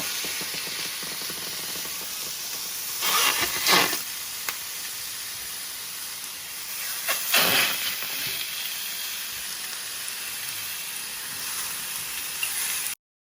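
Chicken pieces frying bone side down in an oil-free pan for biryani, giving a continuous close hiss and sizzle with two louder bursts of crackling, and no one speaking.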